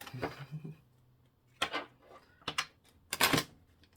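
A deck of tarot cards is shuffled in several quick riffling bursts, with short pauses between them, close and crisp in a quiet room.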